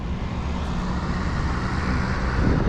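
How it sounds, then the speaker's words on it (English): A seaplane on floats drones overhead in Victoria, Canada near Wharf Street, a steady broad engine roar that swells slightly toward the end, mixed with city street noise and no speech. "I hear a seaplane, a float plane, I think."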